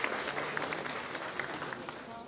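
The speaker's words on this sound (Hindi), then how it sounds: "सभी के लिए तालियां जरूर बजती रहनी चाहिए।" Steady, dense applause from a crowd at a government ceremony as a final batch of housing department candidates comes on stage, a continuous wash of clapping at moderate volume with no breaks.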